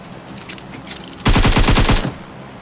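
Gunfire in a first-person shooter match, a short rapid burst of loud close shots in quick rhythmic succession, preceded by fainter distant pops.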